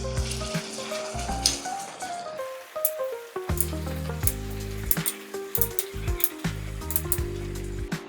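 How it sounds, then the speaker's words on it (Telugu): Chicken pieces for Andhra-style pickle fry in hot oil, a steady close crackle and sizzle with busy popping spatter throughout and no voices. "అన్ని ముక్కలకు పట్టేలాగా మనము ఆయిల్లో ఫ్రై చేసుకోవాలి"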